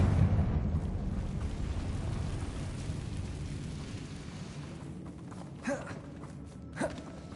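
A fiery Confringo spell blast in Hogwarts Legacy starts as a heavy, low rumble and slowly fades. Two faint short pops follow near the end.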